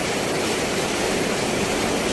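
A constant, loud rushing roar of Sutlej River water pouring through an open dam gate at Ropar Headworks, broad and unbroken, with no voices.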